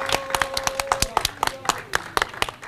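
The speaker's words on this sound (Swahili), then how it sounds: "Naomba tuwapigie makofi mengi sana Seafood lovers." Audience clapping for the Seafood lovers restaurant at a Friends of Berkane gathering: scattered, uneven hand claps ring out close and sharp for a few seconds, with a voice and background chatter running underneath.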